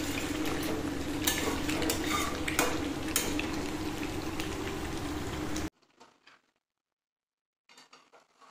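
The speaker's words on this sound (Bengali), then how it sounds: "তো খুব সুন্দরভাবে আমি এটাকে একটু কষিয়ে নেব তেলের মধ্যে" Chicken pieces sautéing in hot oil in a wok sizzle loudly and steadily with sharp spatters and stirring clatter, then the sound cuts to near silence with faint scraping at the end.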